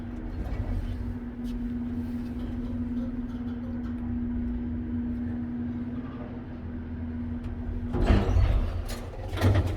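An antique Otis elevator at Union Station in Portland, Oregon runs with a steady low motor hum for several seconds, then its door knocks and slams shut near the end with a few loud clattering bangs.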